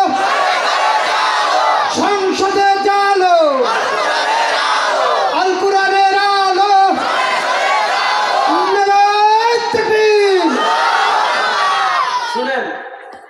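A large crowd at an Islamic religious lecture roars Allahu Akbar in reply to a takbir call, several loud chanted waves of many voices rising and falling close by.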